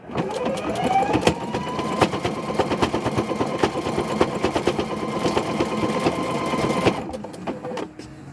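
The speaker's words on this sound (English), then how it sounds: "So you want to sew down the corner first." A sewing machine stitches car seat cover fabric in a fast, rapid mechanical rattle, loud and close, running steadily for about seven seconds before stopping, with a few scattered clicks after.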